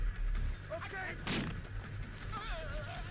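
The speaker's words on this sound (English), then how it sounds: "now I throw another flash grenade here to distract these guards" Flash grenade thrown in Splinter Cell to distract guards: a sharp, sudden burst rings out amid a busy, steady game soundscape with whistling tonal effects, and someone talks throughout.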